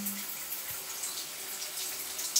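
Shower spray running steadily indoors, a dense continuous hiss with small splashes and faint knocks throughout, heard fairly close with no speech.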